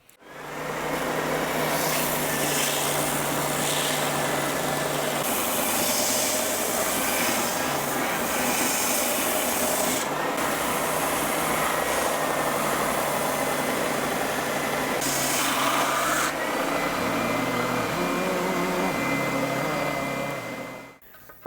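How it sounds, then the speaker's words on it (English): Spindle sander shaping an alder guitar body: a continuous motor drone with an abrasive hiss that swells and eases as the wood is pressed against the spindle, loud and close throughout, ending abruptly. "we're going to start over here on the spindle sander now and solidify the shaping on this body"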